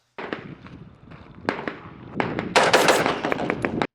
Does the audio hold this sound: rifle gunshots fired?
yes